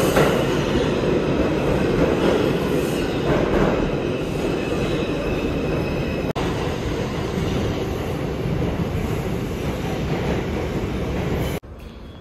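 A subway train rumbles loudly and steadily, wheels clattering on the rails with faint high squeals, the roar cutting off abruptly near the end.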